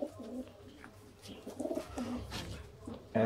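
A golden pigeon coos on a rooftop, giving soft repeated low coos at moderate distance over a quiet outdoor background, with a brief louder noise at the very end.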